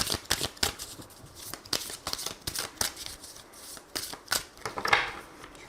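Tarot cards being shuffled by hand, a quick series of riffling flicks and slaps up close, steady and unbroken by speech.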